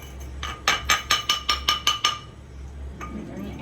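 Sugar is crushed into powder for cold coffee with a string of about eight sharp, evenly spaced knocks, close and moderately loud, followed by a pause and one more knock over quiet background hum.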